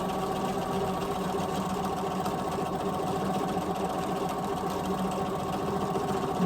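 A sewing machine running steadily during free motion quilting and thread painting, its even mechanical hum and rapid needle rhythm continuing close and unbroken, with no talk.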